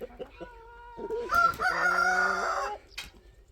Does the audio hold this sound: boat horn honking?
no